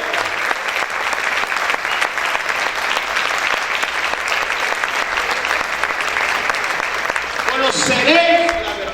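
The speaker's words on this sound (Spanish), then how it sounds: "Aplaude fuerte al Rey." A church congregation applauding loudly for the King, continuous dense clapping for several seconds, with a voice and some tonal sound breaking through near the end.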